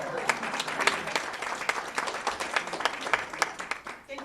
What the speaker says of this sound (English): Thank you for that mild applause.